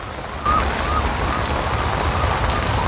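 Steady rain falling on a hard surface, a dense continuous patter with no voices, picking up slightly after the first half second.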